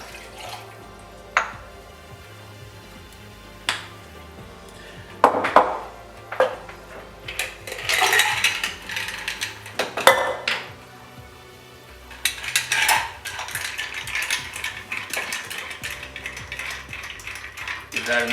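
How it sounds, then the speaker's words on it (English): Cocktail of sweet vermouth and Old Tom gin stirred over ice in a mixing glass, with scattered clinks and rattling of ice against glass, some sharp isolated knocks and a busier jangling stretch toward the end, close and fairly loud. "Give that a nice stir."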